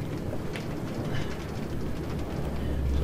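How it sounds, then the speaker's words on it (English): A steam train built in the WitchCraft series game, running steadily with a constant low rumble and faint rhythmic clatter, loud and close, no voices. "I have built a steam train."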